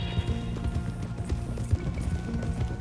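Rhythmic clip-clop of horse hooves on ground in the Red Dead Redemption 2 video game, steady close footfalls with occasional snorting and tack noise, no talking.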